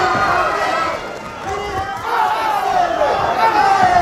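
Fight crowd at a Kevin Ross vs Matt Embree bout roaring and cheering for Ross, a loud sustained wash of voices that dips briefly then swells again.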